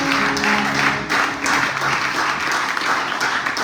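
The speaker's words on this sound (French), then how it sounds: "Acclamez pour l'Éternel." Church congregation clapping and cheering together at a worship service, a dense, steady wash of applause with a voice briefly audible early on.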